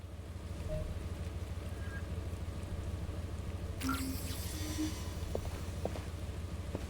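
Steady rain falls in The First Descendant, a soft, continuous wash of noise with a faint rising swell near the middle and no voices.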